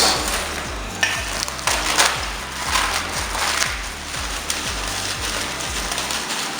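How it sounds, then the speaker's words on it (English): Instant ramen noodle blocks crushed by hand, giving repeated dry crackling and crunching bursts at a steady rhythm over a constant low hum, close and fairly loud with no talking. "I'm gonna crush the noodles"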